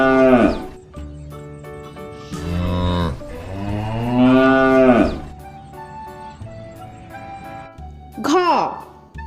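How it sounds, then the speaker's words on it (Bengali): A cow and calf moo in several long, drawn-out calls of varying pitch, loud and close, with a voice also present, in a children's alphabet lesson. "গরু বাছুর দাঁড়িয়ে আছে"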